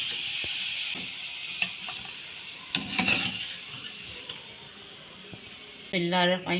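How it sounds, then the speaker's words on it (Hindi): Lentils and tempering sizzle in a small amount of oil, a steady close fry broken by a few utensil clinks and stirring knocks, with a voice speaking at the end. "जितना हो सके कम तेल में आप इसको फ्राई करें।"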